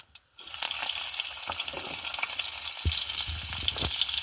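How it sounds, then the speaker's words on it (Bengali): Bengali five-spice and chopped onion hit hot oil with a sudden loud sizzle that settles into continuous frying crackle, with a few stirring knocks against the pan and no talking. "তেল দিয়ে দিয়েছি, এবার দিয়ে দেবো 5 ফোড়ন, দেবো একটু পেঁয়াজ কুচোনো"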